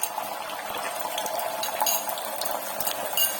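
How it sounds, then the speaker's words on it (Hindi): Eggs sizzle and crackle in hot oil in a frying pan, a steady close hiss with scattered pops and spits. "ऑयल अच्छे से गर्म हो चुका है, तो अब आप इसमें अंडे ऐड कर देंगे।"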